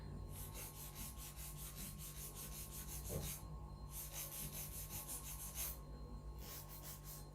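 A nail file rasps back and forth across a fingernail tip in quiet, steady repeated strokes, close and faint, with short pauses between bursts.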